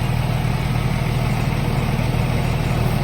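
A Porsche 997 engine idles steadily up close, giving a continuous low rumble with a mechanical hum and no change in pitch across the few seconds.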